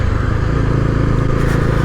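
A Bajaj Dominar 250 motorcycle engine runs loud and close in a steady, even drone with a low pulsing rhythm, heard alone without talk.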